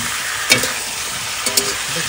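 Fish sizzling as it fries red-brown in a pan, a steady crackling hiss running throughout, broken by two sharper spatters or utensil clicks, close and fairly loud.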